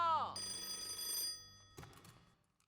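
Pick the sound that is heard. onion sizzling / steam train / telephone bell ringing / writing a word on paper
telephone bell ringing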